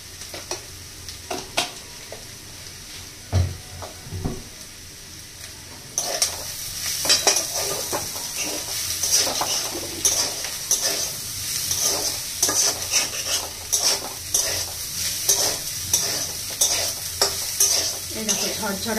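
Potatoes frying in a little oil with sugar for alu posto, stirred in a pan: a steady sizzle swells after a quieter start, broken by repeated scraping and clinks of the spoon against the pan.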